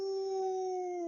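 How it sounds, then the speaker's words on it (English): A wolf howl rises over a prairie at night, one steady, drawn-out wailing tone held evenly for about a second, clear and fairly loud with no talk over it. "The wolves talked to each other across the prairie."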